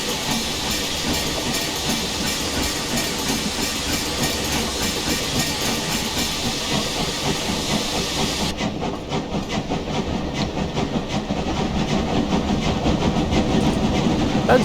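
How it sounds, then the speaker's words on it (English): A steam locomotive on the Brockenbahn route from Wernigerode to the Brocken, as simulated in Train Simulator Classic, chuffs steadily with a continuous broadband hiss and rhythmic rail clatter, loud and unbroken with no talk. "It's got an alright chuff sound, but it's definitely not a pro-line steam locomotive by any means."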